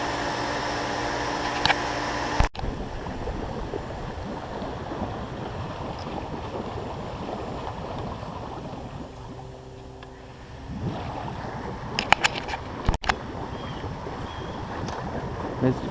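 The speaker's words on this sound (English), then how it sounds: "Blower's working in the jacuzzi." A jacuzzi air blower at a residential pool in McKinney, Texas runs with a steady, broad rushing hiss, accompanied by a few sharp clicks and knocks.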